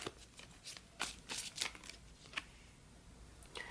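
Tarot cards are shuffled by hand in a series of close, crisp riffles and slides, irregular bursts spaced across a few seconds with quiet gaps between them; nobody speaks.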